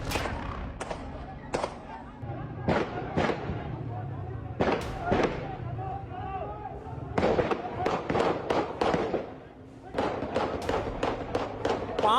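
Bursts of gunfire in Pakistan-occupied Kashmir, a man firing more than ten rounds per second, cracking out in sharp clusters with short pauses between, loud and close over crowd voices and background chatter.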